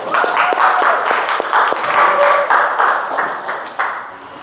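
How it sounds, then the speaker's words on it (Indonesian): A class in a classroom applauds together, a dense and loud stretch of clapping that holds steady for several seconds. "Kasih aplaus buat kita semua"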